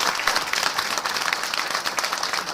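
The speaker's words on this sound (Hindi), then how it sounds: "ऐसे लोगों के लिए ताली बजाई जानी चाहिए" A crowd at a coaching-centre address to young people in Bhadra breaks into applause: sustained, dense clapping from many hands, fairly loud and continuous across the whole stretch.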